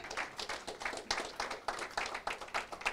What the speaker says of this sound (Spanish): damos un fuerte aplauso al Señor por nuestras finanzas